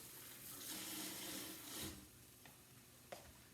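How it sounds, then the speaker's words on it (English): A sink tap runs while hands are washed under it, a soft steady rush of water with a few small clicks and knocks near the end. "Wash my hands right quick."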